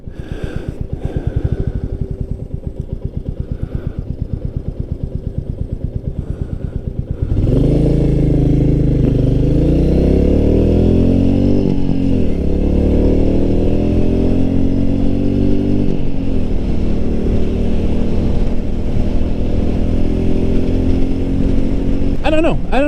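A Royal Enfield Meteor 350 motorcycle on a test ride, its loud single-cylinder engine rumbling close under heavy wind noise, with revs rising and dropping as it accelerates through the gears.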